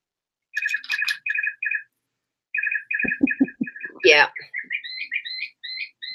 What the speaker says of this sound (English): There's our bird. There's our time.